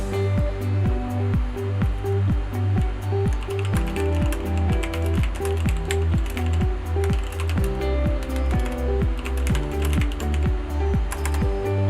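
Typing on a Patriot Viper V770 RGB mechanical gaming keyboard, a steady rhythm of dense, close key clicks and clacks running continuously with no talking.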